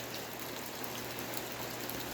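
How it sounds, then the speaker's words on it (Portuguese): Heavy rain pours steadily onto a home's yard, a dense, continuous hiss that stays loud and even throughout with no voices. "Chovendo bastante."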